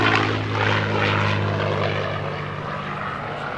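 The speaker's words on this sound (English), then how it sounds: "No other sound like this in the world, ladies and gentlemen, of the Rolls-Royce Merlin engine." Steady, powerful drone of a P-51D Mustang's Rolls-Royce Merlin piston engine flying overhead at a New York airshow, loud at first and easing slightly as the propeller plane moves away, with no talking.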